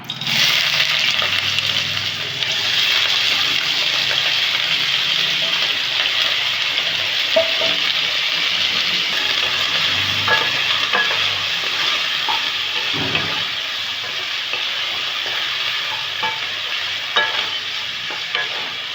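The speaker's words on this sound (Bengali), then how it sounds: "তেলটা গরম হয়ে গেছে সবজিগুলো দিয়ে দিচ্ছি" Vegetables dropped into hot oil in a kadai, a loud hissing sizzle that stays strong and continuous, with intermittent stirring clatters and scrapes as it cooks close up.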